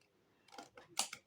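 Scissors snip through paper at a scrapbooking table, a few short close crisp cuts in quick succession, with no voices.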